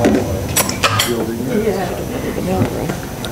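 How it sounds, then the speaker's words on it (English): A spatula and other kitchen utensils clink and scrape against dishes in a quick burst of sharp metallic taps, followed by softer handling noises under a nearby voice. "Let me get a spatula"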